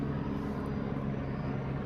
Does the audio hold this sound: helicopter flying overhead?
yes